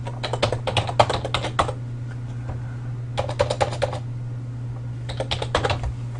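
Computer keyboard typing into an Excel spreadsheet in three bursts of fast clicking keystrokes with pauses between, close, over a steady low electrical hum, no talking.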